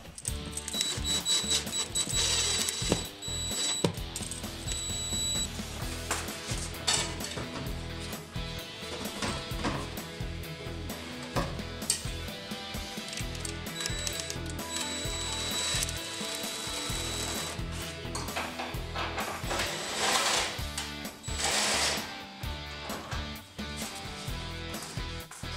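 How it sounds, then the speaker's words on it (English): A screw is driven into the wall to fix a PVC pipe clamp for a dust collection system, with bursts of power drill whirring, ratcheting clicks and knocks, close and fairly loud, with no voices. "And then I'll just screw this to the wall."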